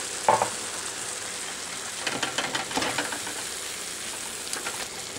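Rice vermicelli upma with mixed vegetables cooks in a pan while sauce is stirred in, a low steady sizzle with brief bursts of spoon scraping and stirring, close by.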